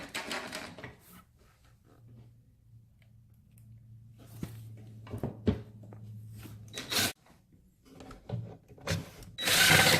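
An H9 screw is driven into a wooden side panel and brace of a furniture piece, heard as intermittent scraping, rubbing and tool bursts with a steady low whir midway and a louder rasp at the end; no speech.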